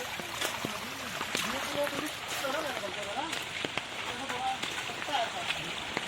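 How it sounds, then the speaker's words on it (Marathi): A stream near Anandwadi waterfall at Neral flows with a continuous bubbling rush, while a person talks over the water. "मस्त खलखल पाणी वाहत आहे बघू शकता तुम्ही"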